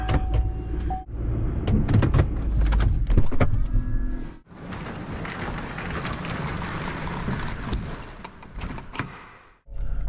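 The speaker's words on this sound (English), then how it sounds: "I'm gonna put this truck inside." A truck pulls inside out of the snow and wind, a loud, steady engine and body rumble with clunks and a door-like thud near the start, a short dip, then continuous close vehicle noise until a brief drop at the end.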